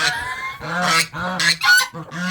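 Geese and drakes on a farm honking close by in loud, repeated nasal bursts with short gaps between calls, and no talk over them.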